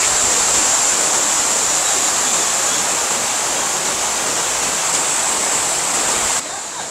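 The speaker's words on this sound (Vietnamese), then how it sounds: "thác nước chảy đẹp chưa này?" A waterfall in a Korean village on a rainy day gives a loud, steady, close roar of rushing water that continues unbroken throughout.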